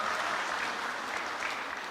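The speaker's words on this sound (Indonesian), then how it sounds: "Tepuk tangan untuk NU Gianyar yang luar biasa ini" Dense, even applause comes from an audience at the NU Gianyar centennial gathering, a steady wash of clapping with no gaps and no voices on top.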